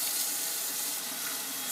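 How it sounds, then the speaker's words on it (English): Cold tap water pours into a kitchen bowl, a steady close hiss of running water with no pauses and no talking. "I'm going to fill it up with water,"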